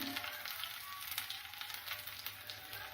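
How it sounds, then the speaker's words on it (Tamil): Mustard seeds spluttering and popping in hot oil in a pan, a continuous bright sizzle with dense crackling pops throughout, steady and close, with no voices. "கடுகு பொரியட்டும்."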